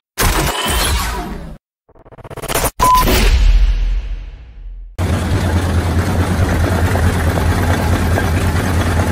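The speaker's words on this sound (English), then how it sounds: "With two horizontal cylinders running on kerosene, this tractor was a true workhorse of early American farms." An early American farm tractor with two horizontal cylinders running on kerosene is heard alongside other sounds and a brief gap, then its engine runs steadily with a low, even drone.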